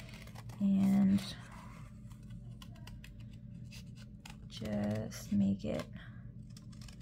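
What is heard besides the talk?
cutting around a printed image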